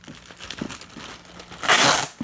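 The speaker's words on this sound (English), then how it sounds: "You want to make sure the packaging tape goes around the sides a little bit." Packaging tape pulled and pressed to seal a Ziploc bag shut, with soft crinkling of the plastic and a louder burst of tape tearing and ripping near the end, close by with no talking.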